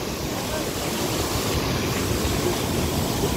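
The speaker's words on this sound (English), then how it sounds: "So gorgeous waterfall" Dyserth Falls roars as a steady, full-band rush of falling water, swollen after recent rain and heard from nearby without a break.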